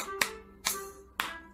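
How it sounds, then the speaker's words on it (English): Three separate hand claps from a children's English action song, crisp and fairly soft, spaced about half a second apart. "I can clap my hands"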